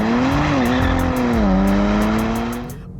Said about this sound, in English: Upshifts are crisp and quick, and downshifts are entertaining.